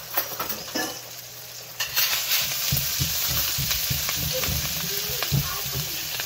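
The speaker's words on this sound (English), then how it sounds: "get a nice sizzle going, let it cook, release its oils." Garlic and ginger frying in a pan give a steady, close sizzle with stirring scrapes and clinks, and a few louder bursts as the pan is worked.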